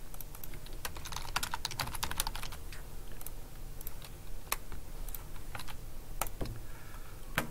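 Computer keyboard typing code, rapid close clicky keystrokes in irregular bursts with short pauses, continuing steadily throughout with no talking.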